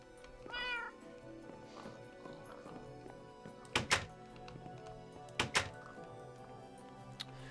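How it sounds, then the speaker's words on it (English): A cat meows once, a short rising call near the start, amid quiet household room tone, followed later by a few sharp thumps and knocks. "Hello, other cat."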